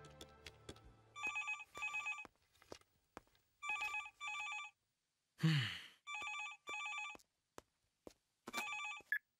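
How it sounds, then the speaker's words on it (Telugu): A telephone rings in repeated double bursts, clear and fairly close, with a few soft knocks and a brief breathy noise between rings. "అంజలి నీకే ఫోన్."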